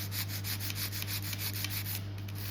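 A nail file rubs along the side walls of an acrylic nail in steady, even strokes, a close, continuous rasping scrape over a low background hum.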